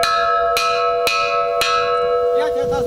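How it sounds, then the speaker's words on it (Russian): An alarm bell rings with three loud, evenly spaced metallic strikes about half a second apart, each leaving a long, sustained ringing tone. A faint voice-like sound follows at the very end. "ударили пять раз колокол, это означает, враги напали на нас"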